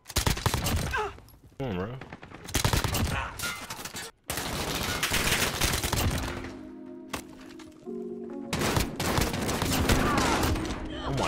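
Rapid UZI submachine gun bursts in a shooter video game, dense crackling volleys broken by short pauses, loud and close, with someone talking briefly.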